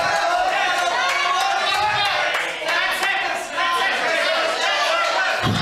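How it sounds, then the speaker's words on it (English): Arena crowd roaring and cheering through the final seconds of a grappling match, a loud continuous wall of excited voices with a commentator talking over it. "Jacob's going to have the crowd go, whoa."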